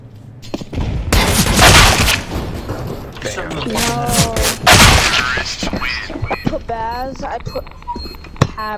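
Grenade blast and bursts of gunfire in a bomb-defusal style shooter game, loud booms and rattling shots overlapping with players talking throughout.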